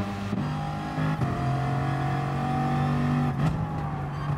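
A heavy racing car's engine in the video game Gran Turismo Sport holds a loud, steady droning note, with brief revving shifts at gear changes and no talk.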